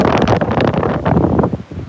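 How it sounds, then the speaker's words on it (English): Strong gusty wind buffets the microphone throughout a storm while fishing, a loud continuous broadband roar with surging rushes and no speech. "even for a windy day"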